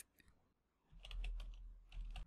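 Clicks of typing on a computer keyboard come in two quiet bursts of rapid keystrokes, close by, over a low background hum.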